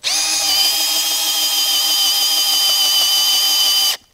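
A power drill bores a hole for a treehouse attachment bolt, running as one loud, steady high-pitched whine for about four seconds before cutting off abruptly.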